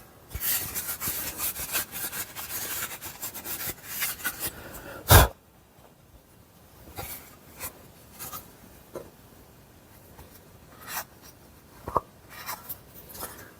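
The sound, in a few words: wiping out old sewing machine treadle part with a cloth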